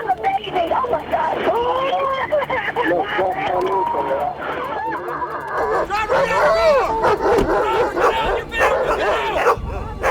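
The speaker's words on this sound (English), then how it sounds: "I heard the K9 dog barking" A police K9 dog barks and yips loudly at a traffic stop, its sharp bursts overlapping constant shouting and talking from people nearby.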